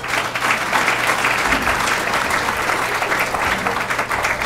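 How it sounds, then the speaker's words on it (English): A seated audience at a Chicago planning talk applauds the panel taking their places, with thick, even clapping filling the room at close range from start to finish. "Let's give them a round of applause."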